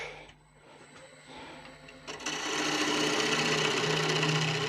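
A small spindle gouge hollows a wooden box for rosary beads on a lathe, starting quietly, then breaking into a steady close scraping hiss that grows louder and holds, with no speech.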